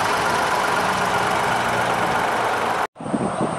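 A Ford Bronco's 1.5 liter EcoBoost engine idling with a steady, even rumble nearby, briefly cutting out near the end before the sound resumes.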